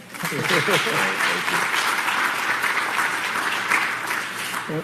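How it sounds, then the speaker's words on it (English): An audience at a campus town hall leadership event claps steadily, a dense, sustained applause with some voices talking underneath near the start. "Another round of applause."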